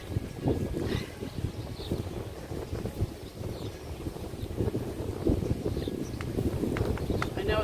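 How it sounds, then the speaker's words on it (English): Wind gusting steadily outdoors in a village garden, buffeting the microphone with continuous low rumble throughout, while a person talks over it. "It's so windy out here."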